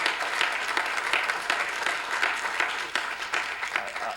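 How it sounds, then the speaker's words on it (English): Audience applause at a post-election event with John Kerry, a steady wash of many hands clapping throughout, fairly loud and dense with no talk over it. "I don't know what you're clapping for."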